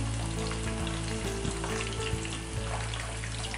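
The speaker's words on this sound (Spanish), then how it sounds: "le vamos a agregar el pollo. Vamos a dejar que se selle." Seasoned chicken for pollo al ajillo sears in a hot pan, giving a loud, dense, continuous sizzle that crackles and spits close up throughout.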